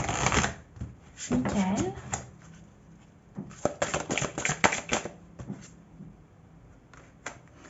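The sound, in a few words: shuffling and drawing archangel oracle cards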